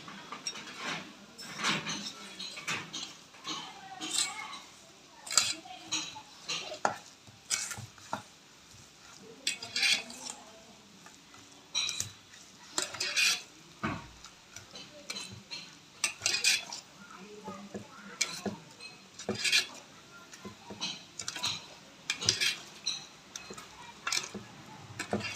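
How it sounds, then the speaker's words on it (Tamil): A spoon or utensil clinks and scrapes against a bowl as cassava paniyaram batter is mixed, giving an uneven run of close, light taps and stirring sounds. "எல்லாத்தையும் ஒன்றா நம்ம மிக்ஸ் பண்ணிக்கலாம்."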